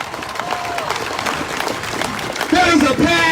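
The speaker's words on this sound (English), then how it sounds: "Give them a round of applause." Crowd applauding and cheering outdoors at a Black Lives Matter march in downtown Ypsilanti, scattered clapping under a speaker's amplified voice, with cheers rising louder toward the end.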